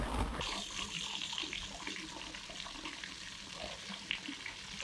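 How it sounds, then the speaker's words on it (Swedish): Water gushes steadily from an outdoor tap beside a road, a constant close splashing hiss with no talk. "Här är en kran."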